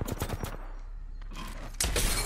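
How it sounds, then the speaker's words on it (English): Enemy gunfire in Apex Legends, rapid bursts of automatic shots, with a sharp louder burst near the end. "Enemies are shooting at me. I am taking fire."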